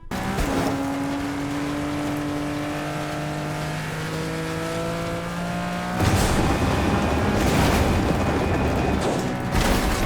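Engine of the Adventure Time car in the video game Fortnite, a sustained droning hum with rising tonal pitch, shifting after a few seconds into a louder, rougher roar with no talking.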